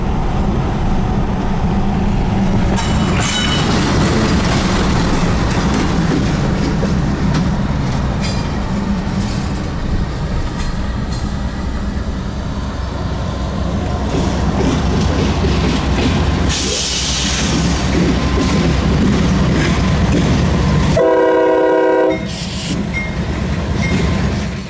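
A CSX C40-9W freight locomotive rolls past close and loud, its steady rumble and wheel clatter filling the scene before a sharp horn blast sounds near the end.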